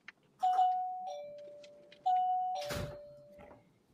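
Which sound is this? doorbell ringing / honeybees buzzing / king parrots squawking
doorbell ringing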